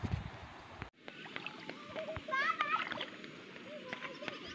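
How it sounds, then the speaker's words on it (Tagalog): Hikers crossing a river on foot on a trail to Baawan Falls, with soft splashes and sloshing water close by under people talking and children's voices. "tumatawid na po kami ng ilog mga idol."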